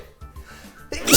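A single cartoon-style sneeze bursts out loud and close near the end, preceded by short breathy vocal sounds.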